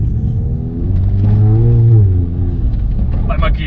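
A VW Golf R with a Revo stage 3 tune accelerates, its engine note rising in pitch as it pulls, heard from inside the car with people talking over it.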